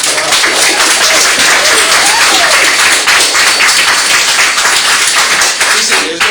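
Dense, loud applause fills a courtroom during a motions hearing, a continuous wash of clapping that runs for the whole stretch with little letup.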